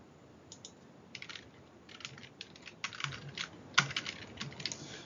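Light typing on a computer keyboard while searching for a patient in an electronic health record system, with quiet scattered key taps that grow denser and slightly louder, ending in a few sharper clicks.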